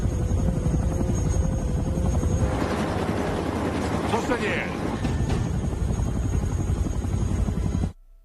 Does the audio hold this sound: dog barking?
no